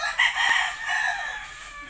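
Gamecocks kept for cockfighting crow loudly and close by, a sustained crow with clucking mixed in and no talk.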